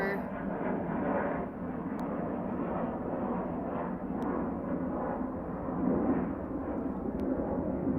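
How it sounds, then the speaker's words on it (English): Airplane passing overhead outdoors, a steady broad rumbling drone that holds at moderate level throughout with a slight swell near the end. "Sorry, there's an airplane passing over."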